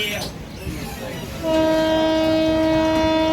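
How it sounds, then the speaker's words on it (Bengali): A train horn blares loud and close from a train waiting to depart on the line toward Rameswaram, a sustained tone starting after a moment of station noise and holding to the end. "ট্রেনে হর্ন মেরে দিল ট্রেনটা এখন হয়তো ছাড়বে"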